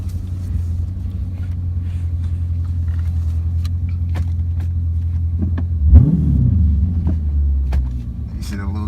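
A 2017 Dodge Charger Scat Pack makes a steady, loud low engine rumble on a 0–60 run, with a brief surge near the six-second mark as it accelerates, the drone continuing under faint background chatter.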